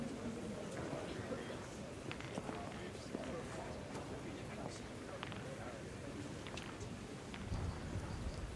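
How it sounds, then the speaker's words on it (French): Heavy rain hisses steadily and faintly at an outdoor pétanque match, a dense unbroken wash with scattered sharp drop ticks and a few distant knocks underneath. "comme là, il pleut vraiment, Oui, vous l'entendez même dans... vraiment fort."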